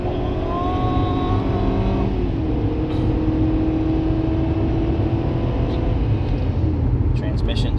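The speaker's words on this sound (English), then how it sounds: "Transmission seems to be all there on wide open throttle." A 2015 Ford Escape accelerating at wide open throttle, its engine droning loudly from inside the cabin and rising in pitch, then shifting and pulling again, while someone talks over it.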